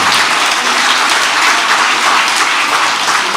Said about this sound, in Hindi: एक बार अपने लिए आप लोग तहसीली तालियां बजाइए।